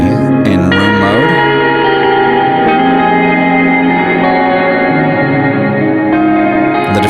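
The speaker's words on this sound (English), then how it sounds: "so you're hearing a lot of the smearing of the guitar tones" Sustained electric guitar tones washed in a heavy room-mode reverb with high diffusion, notes blurring into a loud shimmering sustained wash that rings on throughout.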